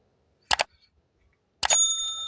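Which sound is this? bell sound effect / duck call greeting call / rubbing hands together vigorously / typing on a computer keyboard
bell sound effect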